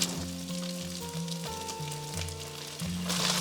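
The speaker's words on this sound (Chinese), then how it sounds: "再把这些料油给它重新回锅，就可以下入猪肝了哈，尽量给它铺开。" Pork liver slices frying over medium heat in a wok of hot seasoned oil, giving a steady, loud, close sizzle and crackle throughout, with no talking.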